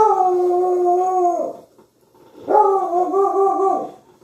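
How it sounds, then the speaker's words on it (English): A dog howls in two long, tonal, wavering bursts separated by a short pause, loud and fairly close, with no one talking over it. "got a dog barking in the background"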